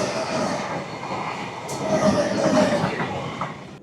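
Kanyakumari–Dibrugarh Vivek Express running nonstop between Kharagpur and Dankuni junctions, a steady loud rumble of the rolling train with clattering wheels and a faint high squeal, no talk.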